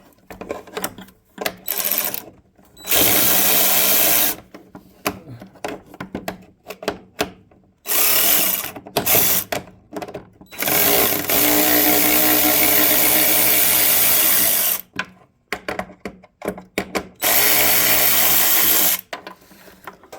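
A power driver with a 1/4 inch socket backs out the gas tank bolts on a Craftsman DLS 3500 riding lawn mower, in several loud whirring bursts of a few seconds each, separated by short pauses and light clicks.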